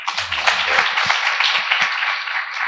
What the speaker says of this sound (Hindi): आप अपने माता पिता के लिए एक बार जोर से ताली बजाएं।